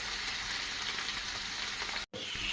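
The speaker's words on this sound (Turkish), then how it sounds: "Evet dostlar soğanımız biraz soldu. Şimdi üzerine sarımsaklarımızı atıyoruz." Onion and garlic fry in a pan with a steady, close crackling sizzle that runs continuously, broken by a brief silent gap near the end.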